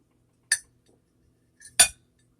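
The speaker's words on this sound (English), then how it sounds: "you would actually take a knife and cut them in half" A knife cutting hard-boiled eggs in half, giving two short, crisp clinks against a hard surface about a second apart, quiet and close with nothing else around.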